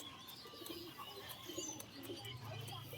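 Domestic pigeons kept by a breeder, one a male, give low, soft cooing that swells toward the end over a faint, quiet background.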